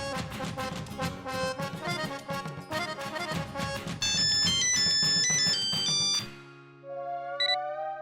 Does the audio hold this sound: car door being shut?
no